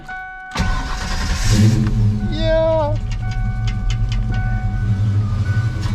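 An original V8 in a five-speed car with freshly fitted tailpipes cranks and fires, catching into a loud, rumbling idle that settles into a steady throaty burble, with a brief voice near the start.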